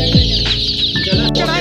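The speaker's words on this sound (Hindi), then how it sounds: "ये वही मुर्गे हैं वो चूजे हैं जो बड़े होकर मुर्गी बनती है" Close, steady clucking and chirping from young chickens, with a few brief sliding cheeps over a constant busy flock background.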